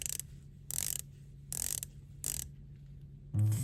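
A bezel on a Shinola Ceramic Monster watch turning in four short bursts of fine, rapid ratchet clicks, close and crisp, separated by brief pauses, ending with a low thump.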